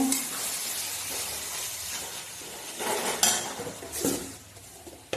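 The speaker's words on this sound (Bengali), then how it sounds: "ভাজা ভাজা করে নেব।" Vegetables fry in a pan for a hot spicy vegetable fry, a steady broadband sizzle with a few sharp clinks of a utensil against the pan near the end.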